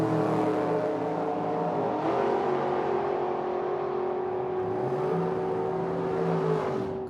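Little drag racing roadster making a run down the track, a loud sustained engine roar with a rising pitch as it accelerates away, no voices.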